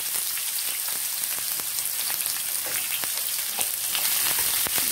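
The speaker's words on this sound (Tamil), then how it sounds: "இப்போ நறுக்கி வச்ச வெங்காயத்தை 100 கிராம் அளவுக்கு சேர்த்துக்கிறோம்" Chopped onions, about 100 grams, sizzling and sautéing in hot oil in a pan for liver masala, a steady close crackle with faint stirring, no talking.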